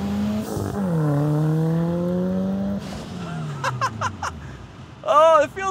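A Mitsubishi Eclipse GSX with doubled horsepower and 240,000 miles launches hard, engine note rising steadily through a long pull, then a gear change and another climb, with quick sharp bursts near the end, heard from inside.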